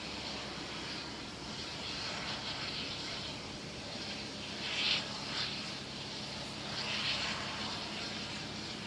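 A KLM Cityhopper jet airliner at Amsterdam Schiphol airport gives off a steady, broad engine roar from a moderate distance. The roar swells slightly partway through, with no talk.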